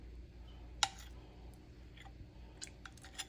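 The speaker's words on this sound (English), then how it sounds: "let's go ahead and taste it and see" Quiet, close chewing of a mouthful of loaded grits with onion, bacon and egg, heard as a few soft clicks and wet crunches spread across a few seconds, with no talking.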